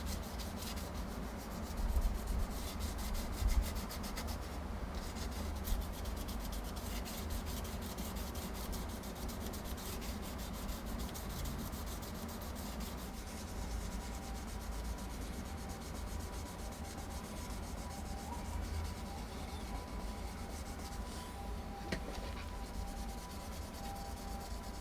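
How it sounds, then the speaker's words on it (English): Light, careful sanding over old violin varnish with very fine abrasive and no force, a steady soft rubbing hiss that continues through the whole stretch at low, close-up level. "Sand very, very lightly."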